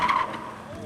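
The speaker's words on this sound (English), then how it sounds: "He's creating art with the burnt rubber." Car tyres skid and squeal as rubber burns at a car meet, a loud screech that sits over engine roar from a nearby car and then fades slightly.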